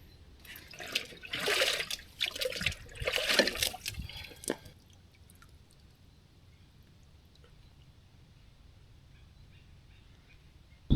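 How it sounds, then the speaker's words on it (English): Water is filtered into a plastic bottle at a backpacking camp, a close trickle and splash for a few seconds that then stops, leaving quiet outdoor background and a faint click at the end. "I guess I'll just filter a liter into the smart water bottle."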